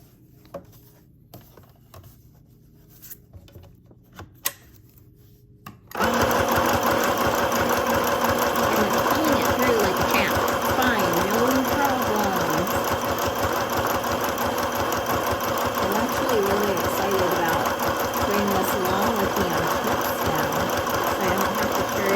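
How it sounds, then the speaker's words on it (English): A portable sewing machine stitches through three layers of fabric, running as a loud, steady motorized whir for about sixteen seconds after a quiet start with a few faint clicks. "So now I'm going to go over 3 layers of fabric."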